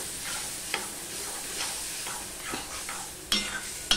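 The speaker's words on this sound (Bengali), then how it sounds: "এবার ভালো করে আমি মশলাটা কষিয়ে নেব, মিশিয়ে নিয়ে।" Spice paste loosened with a little water, stirred and sautéed in a pan for a bottle gourd curry: soft repeated spatula scrapes over a low sizzle, then a sharper clatter near the end.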